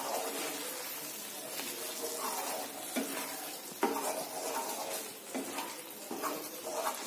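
Egg masala being stirred in a pan after chopped coriander leaves are sprinkled on top: steady scraping and stirring over a soft sizzle, with a few louder utensil knocks, close and continuous.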